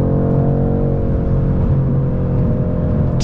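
A 500hp Mercedes AMG drives on a highway with a loud, steady engine drone and rumble that holds throughout, close and continuous, with no talking.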